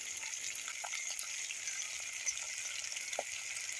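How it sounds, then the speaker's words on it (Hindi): Masala sizzling steadily in a pan over a low flame, a continuous hiss of frying with faint scattered crackles and pops after yogurt goes in, close and alone with no talking. "इस मसाला को भूनते हुए मुझे 7 से 8 मिनट हो गया है लो फ्लेम पे"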